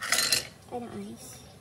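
Ice clinks brightly into an aiyu jelly drink with a short cluster of sharp knocks, followed by a quieter stretch.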